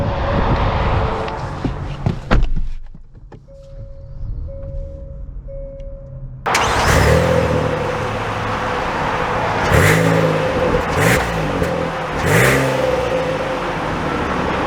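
A 2022 Hyundai Palisade Calligraphy SUV pulls away and drives on, its engine and road noise a steady broadband rush after a brief quieter stretch with a few soft chime-like tones, with no talk.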